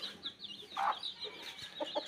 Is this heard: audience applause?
no